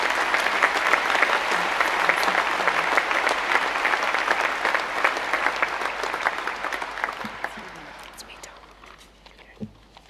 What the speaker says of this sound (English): Please join me in a round of applause to the graduates.